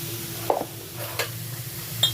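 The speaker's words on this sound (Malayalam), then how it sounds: "അപ്പം നമുക്ക് നന്നായിട്ട് ഇളക്കി കൊടുക്കാം കേട്ടോ" Carrot halwa is stirred in a pan, giving a few soft scraping and clinking strokes over a low, steady background hum, close and fairly quiet.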